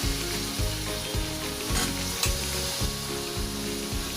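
Potato, eggplant and carrot sizzle steadily in a pan for a mixed vegetable masala, with rhythmic stirring scrapes repeating about every half second under the constant frying hiss, close and fairly loud.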